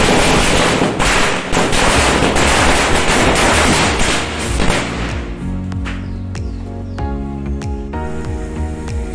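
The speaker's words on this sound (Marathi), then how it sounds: "आता तुम्ही बघितले असतील फटाके फुटलेले" Firecrackers burst in a fast, dense barrage at a home welcome celebration for a newborn, the crackling loud and continuous for several seconds before thinning into scattered pops over a droning tone.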